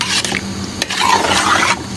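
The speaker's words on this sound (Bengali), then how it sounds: "আলু আমি একসঙ্গে কষে নিচ্ছি।" Beef and potatoes being stir-fried together in a pan for a rustic Bengali aloo ghati, with steady scraping and stirring rasps and a low background sizzle, close and continuous.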